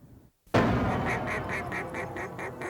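Ducks quack loudly and repeatedly in a boat commercial, a close run of rhythmic calls that starts abruptly after a brief gap and continues steadily over a busy background.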